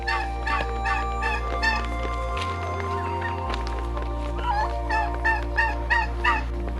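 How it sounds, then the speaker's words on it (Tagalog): Native chickens and roosters feeding make a steady chorus of rapid clucking and gobble-like calls, with a constant low mechanical hum underneath throughout. "Give way to the roosters, okay? You wait for your turn, Pedro"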